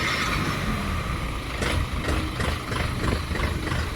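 An Orion 504 tractor with a cab and forced hydraulics idles close by with a steady, low engine rumble. Its even running continues throughout, with no talk over it.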